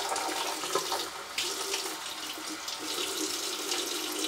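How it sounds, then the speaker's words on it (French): Tap water runs steadily into a sink, a continuous close splashing hiss with no voices, drawn in small amounts for lathering a pear-and-chocolate shaving soap. "Mettre un chouïa d'eau, mais vraiment un chouïa."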